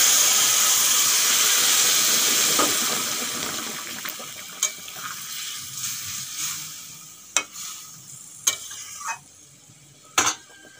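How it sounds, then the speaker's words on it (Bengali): Curry poured into hot mustard-oil tempering with dried red chillies for a vegetarian sabji, a loud hiss that fades to a gentle sizzle, broken by sharp clinks of a spoon stirring against the pan. "ফোড়ন হয়ে গেছে, এখন তরকারিটা ঢেলে দেব।"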